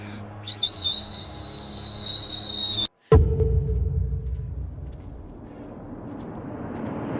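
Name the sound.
whistle blown as a family's death whistle signal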